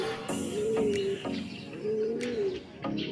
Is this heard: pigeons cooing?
yes